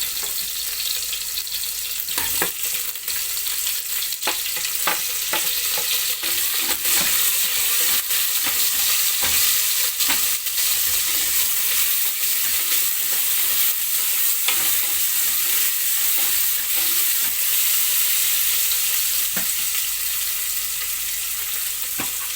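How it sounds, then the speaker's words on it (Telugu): Chillies and onions, following mustard seeds, fry with a constant hiss in a pan for a long stretch. A spoon clanks and scrapes against the metal now and then, close up, with a faint watery rush underneath. "2 మిర్చి, కొంచెం మిర్చి ఫ్రై అయ్యాక ఆనియన్స్ యాడ్ చేసుకుందాం"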